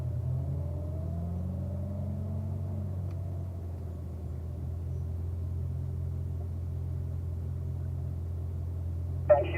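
A Corvette driving a braking exercise run at an owners school on a track, a steady low engine rumble heard from a distance, with a faint rising whine early on and a short sharp burst right at the end.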